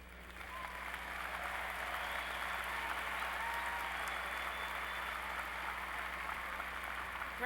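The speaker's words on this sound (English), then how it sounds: "Let's applaud the graduate students." Sustained applause for graduate students at a university spring commencement, a steady hiss of many distant hands clapping in a large hall, even and continuous throughout.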